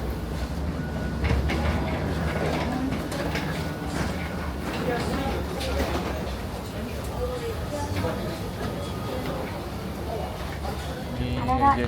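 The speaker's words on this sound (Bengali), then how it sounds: "ট্রেনের মধ্যে উঠে পড়ছি।" Train ride with a steady rumble and rolling rail clatter from inside the carriage, continuous throughout, with some background voices and a chime near the end.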